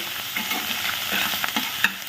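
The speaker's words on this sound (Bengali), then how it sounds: "আগে এটা ভেজে নেব নুন হলুদ দিয়ে" River snails frying with salt and turmeric in a pan, a close, continuous sizzle broken by quick clinks and scrapes as they are stirred.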